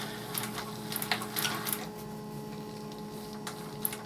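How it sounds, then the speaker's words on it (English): A sewing machine stitches side pleats in quiet, uneven bursts of rapid ticking needle strokes, faint and close, with brief pauses between runs. "Now I can just sew on down."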